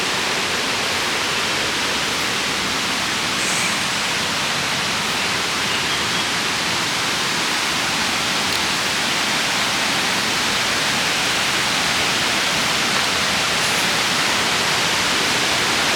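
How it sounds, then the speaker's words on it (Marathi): A strongly flowing stream rushes steadily in a continuous, loud broadband wash of water with no pauses, heard close by in a rural outdoor setting, with no voices. "पाण्याला भरपूर प्रवाह"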